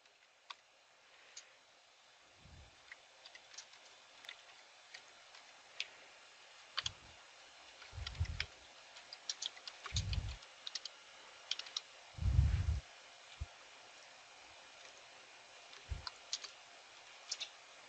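Scattered keyboard clicks as commands are typed into a Fortigate firewall command line, soft irregular taps with a few heavier thumps between them, quiet and close with no voices.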